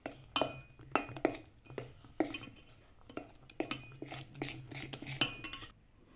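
A spoon clinks and scrapes against a bowl while mixing spinach idli batter, a quiet, irregular series of sharp taps and clatters recorded close up.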